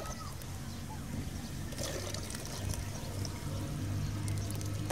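Water poured into a cooking pot at an outdoor rural cookout, a continuous close trickling and splashing pour under faint background voices.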